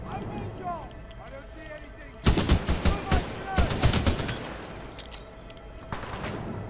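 Rapid automatic gunfire from a small SMG-type weapon in the Titanfall 2 campaign, loud bursts of shots crackling in a dense cluster for several seconds after a quieter stretch, with game ambience and someone talking over it.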